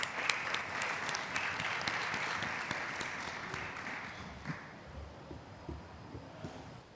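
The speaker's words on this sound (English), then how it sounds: "please help me thank our wonderful panelists with a round of applause as they go back to their seats" Applause for panelists at an evening event on climate justice and environmental defenders: crisp clapping from an audience, loud at first, then gradually thinning and fading to a few scattered claps.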